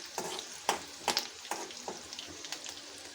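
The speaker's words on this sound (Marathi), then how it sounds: "तुम्ही बघू शकता फोडणी खमंग झाली आहे" Curry-leaf tempering in hot oil, a soft sizzle with a series of sharp spatter pops and stirring scrapes spaced through a few seconds, faint and close.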